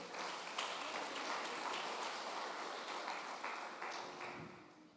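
A church congregation applauds steadily for a pastor's sermon, a dense, sustained wash of many hands clapping that holds for several seconds before easing slightly at the end.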